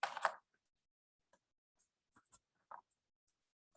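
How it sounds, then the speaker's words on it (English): A blade scratching fine scrimshaw lines into a hard surface, one longer scrape followed by brief, sparse scratches in near silence, close and quiet. "So right now I'm carving my lines"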